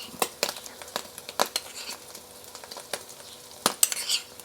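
Shrimp fry in a hot pan for a Thai stuffed omelette dish, a soft steady sizzle punctuated by sharp metallic scrapes of a spatula against the pan at irregular intervals, close up with no talk.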